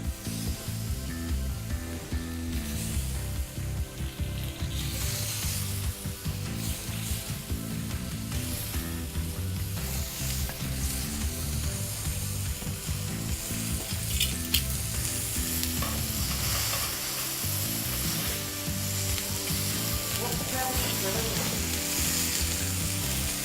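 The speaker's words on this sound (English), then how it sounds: "You can hear that beautiful sizzle." Moreton Bay bugs sizzle steadily on a hot barbecue griddle pan, a loud, continuous frying crackle that runs throughout with no voices.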